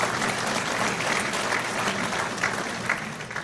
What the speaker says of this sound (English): if I could hear a little round of applause for our last recipient